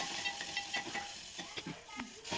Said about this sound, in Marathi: नेहमीप्रमाणे वरणाच्या फोडणीसाठी जिरे, मोहरी, कढीपत्ता, लसूण, कोथिंबीर अशी साधी फोडणी मी वरणाला दिली